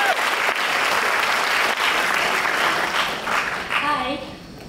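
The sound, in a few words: student audience applause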